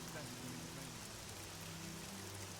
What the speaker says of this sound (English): is it ever not going to be raining here in Cyrodiil? I feel like it's just constant rain.